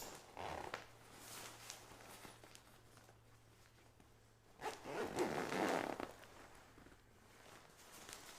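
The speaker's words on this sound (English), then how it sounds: "The zipper does get caught on this one" Travel bag zipper being pulled in two raspy strokes, one brief near the start and a longer one midway, close but quiet over faint room noise, with no talking.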